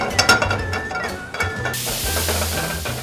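Meat stir-fried on its own in a hot pan until browned, sizzling and hissing steadily close up while a spatula scrapes and stirs it in quick bursts, in a TV studio kitchen with no talk.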